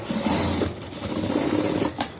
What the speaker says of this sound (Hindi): इस तरह से इसकी सिलाई पूर्ण रूप से कर देंगे।